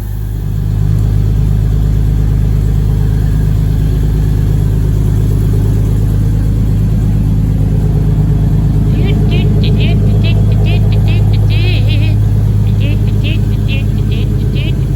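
A Toyota Supra Mk4 with a 2JZ engine, naturally aspirated, runs loud and close in a steady even idle throughout, with faint voices in the background.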